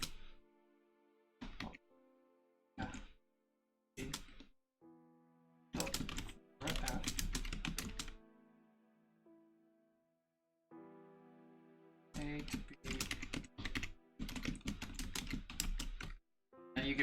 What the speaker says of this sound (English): Well, why am I typing?